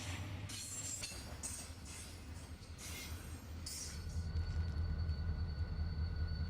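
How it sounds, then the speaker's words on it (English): A fast westbound BNSF Z intermodal freight train blows by on the Mojave mainline in the desert, a steady close rumble of wheels with rhythmic clicks and a faint squeal, swelling toward the end. "a westbound Z train blows by on the south track."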